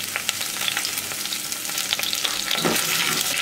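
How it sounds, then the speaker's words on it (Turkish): Peppers sizzle loudly in a pan with a little oil and a pinch of salt, a constant crackling hiss with brief stirring scrapes, heard close up and with no talking. "Ara ara karıştırarak, alttakileri de üste çıkartarak kızartacağım."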